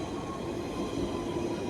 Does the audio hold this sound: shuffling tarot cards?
no